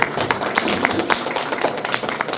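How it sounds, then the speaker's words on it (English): An audience applauds a man at a diversity and inclusion celebration in Edmonton, a steady wash of many hands clapping that fills the room without letup. "everyone join me in giving a round of applause to Sunil for the great work he does"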